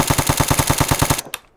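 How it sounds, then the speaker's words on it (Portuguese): Rapid automatic gunfire from an AR2 rifle in a shooter video game, a fast, evenly spaced burst of about fifteen loud, close shots ending abruptly with one final shot after a brief gap. "Um tiro."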